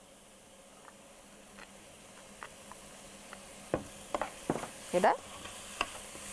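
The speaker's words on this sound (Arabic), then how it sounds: "وهبدا اضيف الزبده" Butter sizzles in a frying pan with caramelized onions, a soft steady fry under several louder stirring scrapes near the end, with a brief spoken word.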